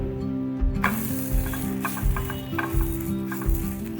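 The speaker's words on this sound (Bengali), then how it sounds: "মানে এপিট পিট করে ভেজে নেব" Batter ladled into a hot pan sizzles and fries steadily, a close, continuous crackle with soft bursts as the pieces cook on each side for a healthy water-mixed breakfast snack.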